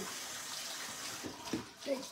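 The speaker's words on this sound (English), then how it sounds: "Wash my hands." Tap water runs into a kitchen sink for hand washing, a steady hiss throughout with a few splashy bursts toward the end, close by.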